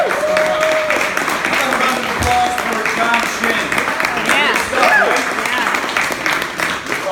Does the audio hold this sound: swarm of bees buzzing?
no